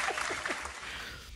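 A small audience applauds a guest named Steven in an interview setting. The clapping comes as a brief, fairly loud burst that quickly fades.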